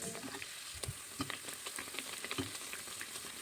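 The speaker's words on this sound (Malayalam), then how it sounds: "ഇനി ചൂടായ എണ്ണയിലേക്ക് നമുക്ക് ഓരോ ബ്രെഡുകളും ഇട്ട് കൊടുത്തൊന്ന് മൊരിയിച്ചെടുക്കാവുന്നതാണ്" Bread slices frying in hot oil over a medium flame, giving a steady close crackling sizzle with scattered sharper pops throughout, and no voices.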